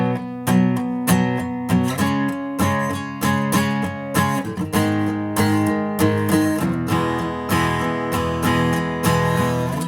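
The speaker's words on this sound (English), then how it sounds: "we're going to add a strumming pattern that sounds like this." Acoustic guitar strummed through the chord progression of a song, a steady rhythmic pattern of full ringing chords played close and loud with no voices.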